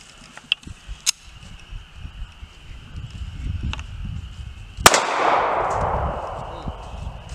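A .380 pistol fires one full metal jacket round into a washing machine, giving a single sharp, loud report followed by a ringing metallic decay, preceded by a few light clicks and handling clanks.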